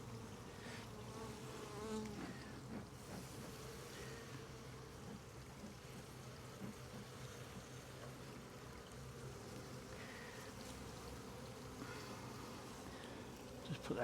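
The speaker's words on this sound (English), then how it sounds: "Bees are going everywhere now," Honeybees buzz densely around an open hive, a steady, close drone that holds for the whole stretch, with individual bees passing near and faint sounds of handling underneath.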